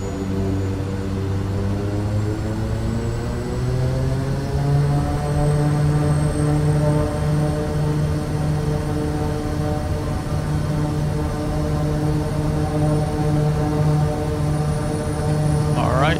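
Kodiak 100 turboprop engine at takeoff power in MSFS 2024, a steady loud drone with a rising propeller hum that holds strong and continuous for the whole stretch, with a voice talking over it.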